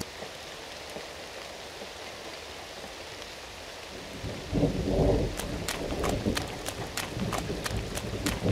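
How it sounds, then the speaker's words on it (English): A storm in a SpongeBob video game: steady rain hisses throughout, then a rolling rumble of thunder swells midway while rain keeps pattering with sharp drip-like ticks. "Maybe they can tell me when this storm's gonna clear up."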